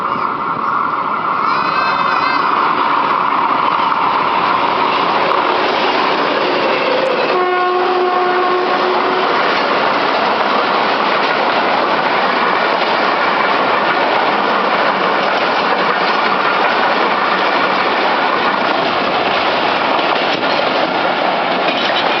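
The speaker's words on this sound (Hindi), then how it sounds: "ये 5001 कोटा एक्सप्रेस को लीड करता हुआ आ रहा है और जहानिया से थ्रू पास कर रहा है।" A Pakistan Railways GRU 20 locomotive, number 5001, leads the Kota Express through Jahania station without stopping, roaring loud and close with a brief horn blast early and a steady rolling rumble of the train passing throughout.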